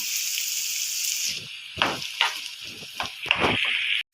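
Chopped onion frying in hot oil for an egg chutney, a steady loud sizzle with several close scraping and clinking stirs of a utensil in the pan.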